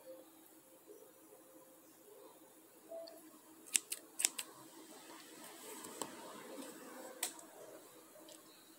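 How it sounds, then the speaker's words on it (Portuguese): Scissors snipping a small piece of crochet thread, a few faint, sharp close clicks over a quiet hiss. "Vou cortar aqui um pedacinho de fio"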